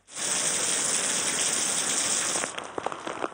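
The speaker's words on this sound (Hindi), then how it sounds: "कभी हल्की और कभी तेज बारिश का यह सिलसिला वक्फे से सुबह तक जारी रहा।" Steady rain pours down during a monsoon shower, a dense hiss that cuts off sharply, leaving scattered drips and splashes afterward.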